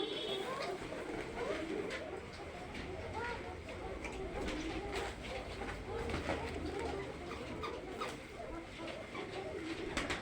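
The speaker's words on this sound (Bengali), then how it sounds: "দেখতে পাচ্ছেন অনেক সুন্দর সুন্দর কবুতর।" Red Shalik and black Kokka pigeons coo continuously in a crowded pigeon house, a dense layered murmur of many birds with people talking underneath.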